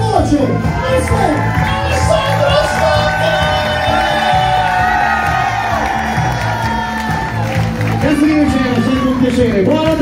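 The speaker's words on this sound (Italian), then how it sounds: "Un grandissimo applauso alla voce" Audience at a jam session in Cesenatico, cheering, whooping and shouting steadily for a singer, a dense continuous crowd roar with voices mixed in throughout.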